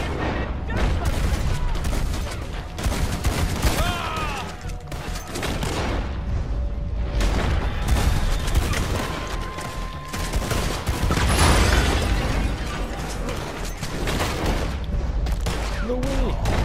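Shotgun fire in Red Dead Redemption 2 during a legendary bounty fight, heavy repeated blasts booming irregularly throughout, mixed with shouting voices and game noise.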